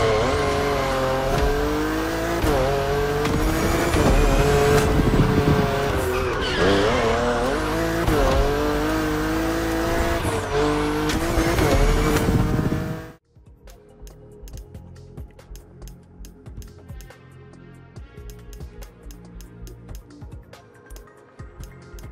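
Race cars in the video game The Crew Motorfest roar loudly with revving engines, shifting pitch and squealing tires, then the sound cuts abruptly to a quieter, sparser stretch of engine and road noise.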